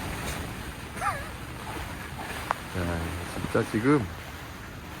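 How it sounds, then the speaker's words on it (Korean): Strong, gusty wind blows outside an Allcamping Rockport camping shelter at a private campsite. It makes a steady, rushing roar that fills the whole clip, with a person talking over it. "밖에 어마무시하게 바람이 불고 있지만"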